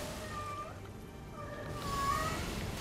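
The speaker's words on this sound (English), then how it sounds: "And my kitty cat is very upset with me." An upset pet cat meows twice in drawn-out, plaintive cries, close by and clear over a faint steady background.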